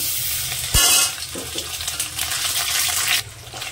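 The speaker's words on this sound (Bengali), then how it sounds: "দিলাম একটু আদা বাটা।" Ginger paste hits hot spiced oil in a pan, a close, bright sizzle with a sharp scrape of a spoon early on, then steady hissing frying throughout.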